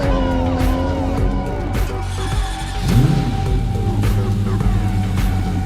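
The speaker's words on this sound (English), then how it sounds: "We of course grabbed some drift cars, just to have the more aggressive character in the cars." A tuned drift car roars and revs aggressively while its tires squeal and skid, the engine pitch rising and falling through a short, loud, continuous burst, recorded close up.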